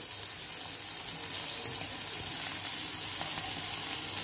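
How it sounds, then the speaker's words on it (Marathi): Tomato chutney sautéed in an iron tava gives a soft, continuous hiss with faint scraping and occasional small ticks, steady and moderately quiet throughout, with no talking. "त्या टोमॅटोच्या चटणीला आपण 1 ते 2 मिनिट परतून घेणार आहोत।"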